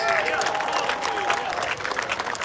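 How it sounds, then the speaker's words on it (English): Crowd applause at a reparations rally, with a burst of clapping and cheering under loud amplified voices and shouts carrying over it, the clapping dense and close throughout. "Clap it up for your black selves!"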